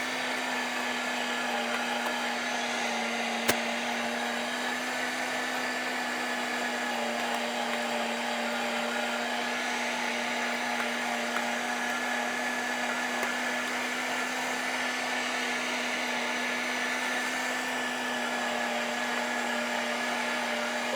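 Electric meat grinder grinding venison, a steady loud motor hum running continuously with one brief sharp click early on.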